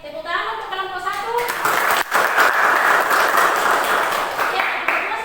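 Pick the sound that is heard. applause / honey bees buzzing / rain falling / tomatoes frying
applause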